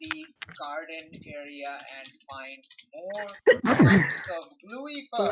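One sharp sneeze breaks out in the middle of ongoing conversation among several people talking around a table. It is loud and close, and the talk carries on right after it.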